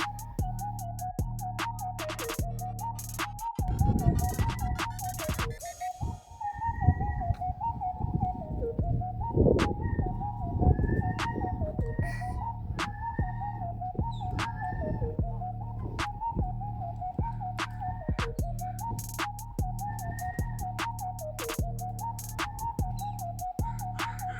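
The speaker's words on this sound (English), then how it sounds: "The birds are just crying, making noise" Birds chirp in short, repeated calls over a steady background hum, with scattered clicks and ticks throughout, outdoors by water with ducks on Bowen Island.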